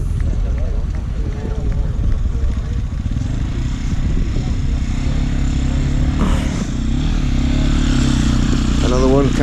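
Trial motorcycles labour up a hill at the Land's End Trial 2022, their engines droning steadily under wind buffeting and crowd chatter, with a sharper rev surge toward the end.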